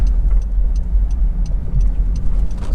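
A 2010 Honda CR-Z 1.5 IMA hybrid drives smoothly with a steady low engine and road rumble from inside the cabin, and a faint regular ticking runs above it.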